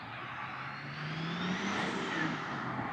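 A Domino's delivery car passes along a town street in Innisfail, Australia, a faint, steady engine and tyre whir that swells slightly as it goes by, heard from a pedestrian's position.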